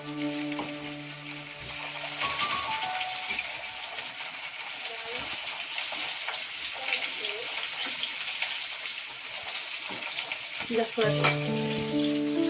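Food frying in a pan at home, a steady dense sizzle running the whole time with a few clinks, while a voice talks faintly in the background.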